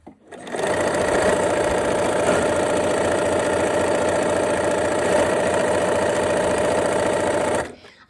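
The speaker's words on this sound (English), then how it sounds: "let's go ahead and sew." A sewing machine stitches triangle-shaped fabric pieces together, its loud motor humming steadily and evenly for about seven seconds before stopping abruptly. It runs on its own, without voices.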